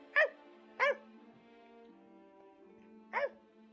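A dog barks in the video game The Great Ace Attorney Chronicles: three clear, close yaps, two in quick succession and a third after a pause, over a faint steady background hum.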